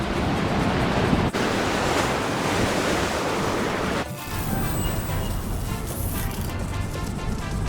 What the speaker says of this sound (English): Rough waves though, you can see that.